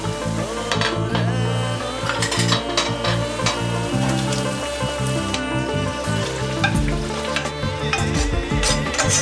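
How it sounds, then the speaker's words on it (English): Chicken pieces going into a boiling butter chicken sauce made with palm oil, with steady loud sizzling and bubbling plus the scrape and clatter of stirring in a pot, close and continuous with no talk. "So what I'm going to do is introduce the chicken."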